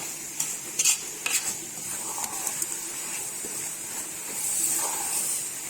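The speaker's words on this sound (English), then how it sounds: "So you give it a quick stir." A spoon stirs afang leaves in a pot of Nigerian soup, giving a few soft scraping swishes over a steady background hiss and sizzle, close and moderate, with no talking.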